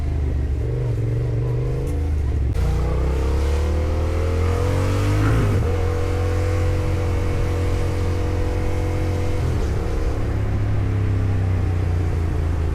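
A motorcycle engine drones continuously while riding in traffic in Fort Lauderdale, a loud steady rumble with gear-shift changes in pitch, no talking.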